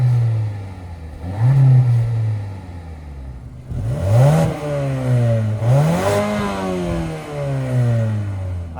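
A Honda Civic and a Mazda3, heard from outside the cars, rev their engines one after the other, each giving sharp rising and falling revs over a steady idle, loud and close, with no talking.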